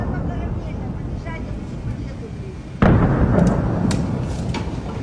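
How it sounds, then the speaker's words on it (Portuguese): An explosion recorded in Zaporizhia during a rescue, a sudden loud blast about midway that leaves a sustained rumbling roar and scattered pops, with faint voices beneath the noise before it. "E quando ele estava sendo resgatado, começam as explosões."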